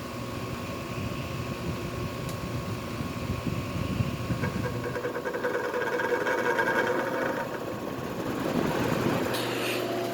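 A Mistral Gyro-Aire fan motor running slowly and ramping up: a steady mechanical hum and whirr with a faint rhythmic rattle, shifting pitch and growing slightly louder midway, close and without speech.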